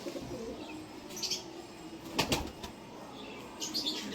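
Pakistani high-flying pigeons flapping their wings in flight, a soft fluttering burst peaking midway amid faint background coos and chirps, fairly quiet and close.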